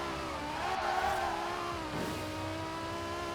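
Revving V10 engine swapped into a BMW Z4 with drift suspension in Forza Horizon 4, a steady loud drone with rising pitch harmonics through the whole stretch, with no talk over it.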